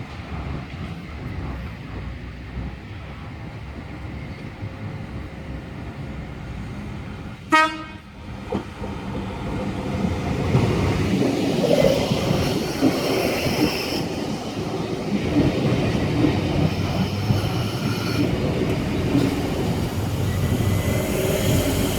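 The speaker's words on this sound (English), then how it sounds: "an S-set approaching platform number 1 at Camellia for a Carlingford service" An S-set electric train approaches the platform at Camellia station, with a short horn toot early on followed by a swelling rumble and rail noise as the train draws near and passes close by.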